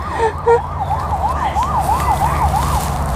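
A police car siren sweeps up and down in a steady wail, moderately loud over a constant low rumble of road and engine noise outdoors.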